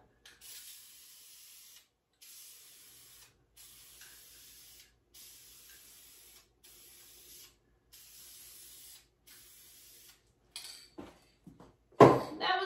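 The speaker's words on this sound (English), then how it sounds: "I'm gonna spray with the Spar Urethane next." Spar Urethane topcoat sprayed from an aerosol can onto a sample board resting on a brick, a series of about nine steady hissing bursts, each roughly a second long with short pauses between, followed by a few clattering handling noises.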